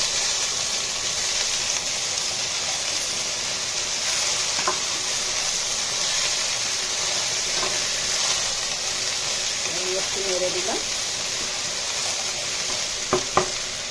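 Potatoes and ridge gourd fry in a pan with a steady, close sizzle, broken by occasional scrapes and clinks of stirring and a couple of sharp knocks near the end.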